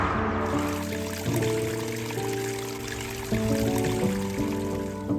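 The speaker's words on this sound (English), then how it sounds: "Waterfall, one of the many." Waterfall on the steep north side of Madeira, a steady broad rush of falling water heard throughout, partly masked by sustained tonal music laid over it.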